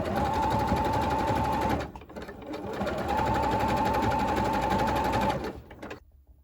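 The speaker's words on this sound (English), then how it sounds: "I want to stitch them to the fabric. And again, I'm just using a zigzag." Sewing machine zigzag-stitching decorative dangly pieces onto a fabric sketchbook cover, two loud close runs of steady humming stitching separated by a short pause, then stopping into silence.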